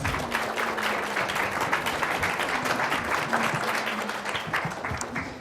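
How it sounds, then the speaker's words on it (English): Steady, dense applause from a large audience, many hands clapping continuously at an even loudness throughout. "Let's give them a big round of applause."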